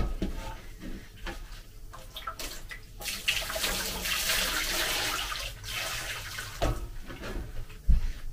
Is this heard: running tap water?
yes